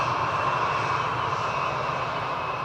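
A KLM airliner lands on runway 18R at Amsterdam Schiphol Airport, its engines giving a loud, steady, continuous roar with a sustained tonal whine and no break throughout.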